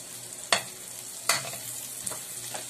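Garlic frying in a pan while a cook prepares homemade chicken and burger steak; a steady sizzle runs throughout, broken by a few sharp scrapes and knocks of a utensil stirring, with no talk.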